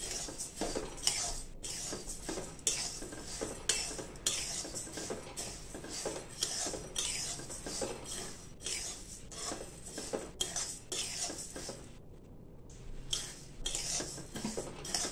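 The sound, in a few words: roasting coriander seeds in a pan, stirring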